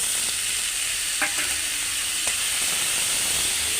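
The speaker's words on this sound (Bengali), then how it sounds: "ঝাল পেঁয়াজ ভাজি করতে করতে লাল হয়ে গেছে, এখন শাক ঢেলে দেব।" Dhenki greens frying with onions and chilli in a pan, a constant dense sizzling hiss with a couple of brief stirring taps, close and loud throughout.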